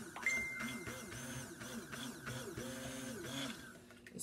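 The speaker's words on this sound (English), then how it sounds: "And we're going to start blending this to emulsify it." A blender whirs while emulsifying a peppermint lotion, a faint, warbling motor drone that rises and falls in rhythmic pulses, with a high electronic tone sounding briefly in the background.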